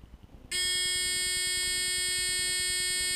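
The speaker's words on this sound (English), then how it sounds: "we can hear the buzzer" An electric buzzer wired in a parallel circuit with a lamp, switched on by a push switch, starts abruptly after a short quiet moment and drones continuously as a loud, steady, harmonic-rich tone close to the microphone.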